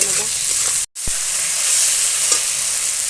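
Ginger-garlic paste with tomato, green chilli and salt fries in hot oil in a pan, giving a steady, close, bright sizzle that cuts out for a split second and then carries on evenly.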